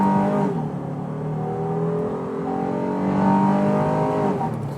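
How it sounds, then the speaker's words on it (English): A 2019 Honda Ridgeline pickup accelerates hard from a brake-torqued launch in a 0 to 60 run, its engine note climbing steadily through the gears, loud and close from inside the cabin, with no talking. "What I'm gonna do now is see what kind of 0 to 60 I can get out of it."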